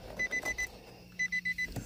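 Two bursts of four rapid electronic beeps, high and tonal, from a car at a car show, separated by a short pause, heard fairly close with quiet background noise.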